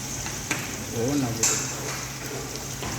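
Whole cinnamon, cloves, cardamom and bay leaf sizzling in hot ghee for basmati ghee rice, a steady close crackle with a few stirring clicks and a faint voice now and then.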